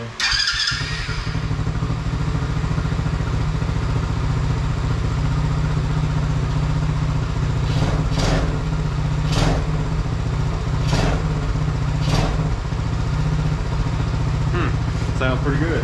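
A Chinese Tao Tao 110cc four-wheeler ATV engine, overfilled with oil, runs steadily close by after a brief start, its even mid-pitched putter holding throughout while a few sharp clicks or clanks break in toward the end.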